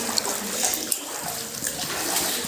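Water sloshes and splashes continuously as a young boy of about five or six swims, with a few sharper splashes standing out.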